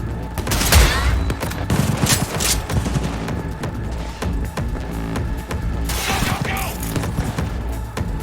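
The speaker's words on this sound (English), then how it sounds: "All units report. Opening fire." Police open fire in Cyberpunk 2077, with loud, close bursts of rapid gunshots and clattering impacts repeating over several seconds.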